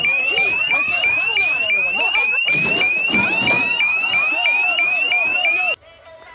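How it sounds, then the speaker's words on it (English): A loud electronic fire alarm whoops in a fast repeating pattern, with a burst of noise midway, then cuts off abruptly near the end. "we'll hear an alarm that will sound throughout the building"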